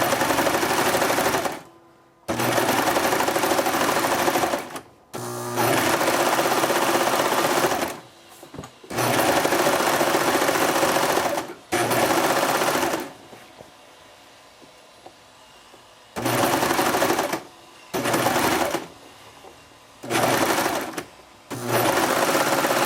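A sewing machine stitches through cloth diaper fabric in repeated loud bursts of rapid whirring, with short silent pauses between runs and a longer quiet gap midway.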